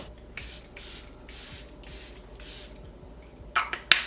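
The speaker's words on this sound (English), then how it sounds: "We are just going to do one last layer of setting spray" Several short hissing bursts of makeup setting spray mist come in a steady rhythm, close by, followed by a couple of sharper clicks and taps at the end.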